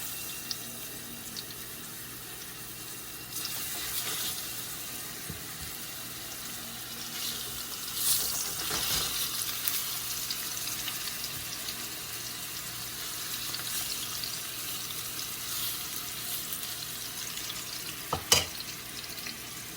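Tuna steak frying in a pan with fish seasoning: a steady, fairly quiet broadband sizzle with watery crackle runs throughout, with a few brief louder clinks and a sharp tap near the end, no talking.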